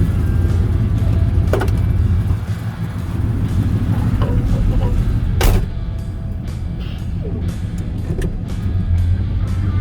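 A 1967 Chevrolet El Camino with an EFI 400 small block and rebuilt T-400 automatic runs loud and close while driving, its engine droning steadily with a few clicks and bumps over the top.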